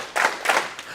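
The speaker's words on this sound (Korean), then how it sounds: "자, 박수 3번 시작." A church congregation at a morning sermon claps in unison three times, with three evenly spaced, crisp bursts close by.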